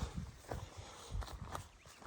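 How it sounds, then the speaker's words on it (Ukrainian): Horses walking nearby, hooves clip-clopping in an uneven, steady rhythm of soft thuds and knocks, fairly quiet with no talk over them. "Прийшли до коні, коні."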